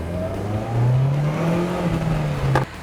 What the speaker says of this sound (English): I'm going to step on it, I'm going to stand on it, and we're hardly going to move. I'm flooring it right now.